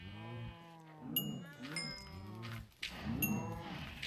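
Cows moo in a survival video game, several long, overlapping low calls, close and fairly loud, with a faint voice between them.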